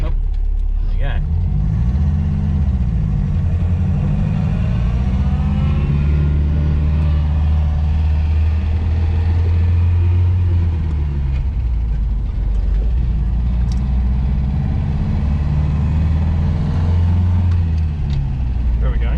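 A Morris Oxford car engine runs steadily on a road, a loud continuous low rumble with slow rises and falls in pitch as it is revved, while people talk over it throughout.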